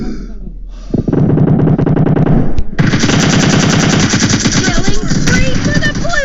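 Sustained rapid machine-gun fire in the PUBG battle royale game, loud and close, running almost continuously through the clip after a brief quieter opening, with faint game voices beneath.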